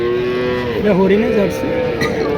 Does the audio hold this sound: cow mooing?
yes